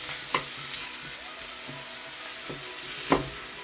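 Onions, carrots and mushrooms sizzle steadily in a stir-fry pan for a chicken stir fry, a constant crackling hiss with a few sharp spatula clacks, close and alone without talk.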